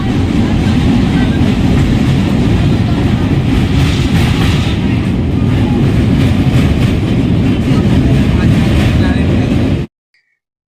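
A largely empty passenger train runs along the rails near Kolaghat, giving a steady, loud rumble with a faint clickety-clack that holds for about ten seconds and then cuts off abruptly.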